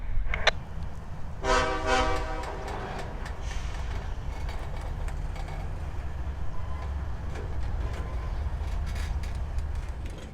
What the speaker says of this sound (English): the engineer aboard 5401 backs up his train onto the spur